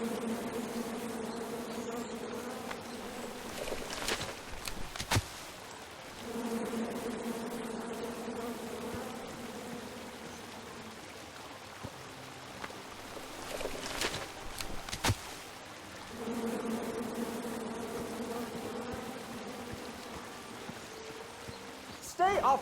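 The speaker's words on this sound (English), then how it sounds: "Come at me, bees!" In King's Quest, a swarm of bees drones in repeated long buzzing bursts separated by brief pauses, with occasional sharp clicks and knocks in between.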